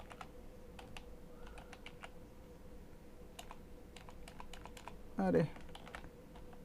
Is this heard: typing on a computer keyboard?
yes